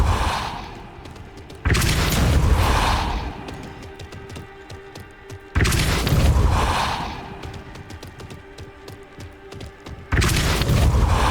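Spell impacts from Depulso, the force-push charm in the Hogwarts Legacy video game: three heavy booming bursts with whooshing tails, spaced about four seconds apart, loud and close, each fading before the next.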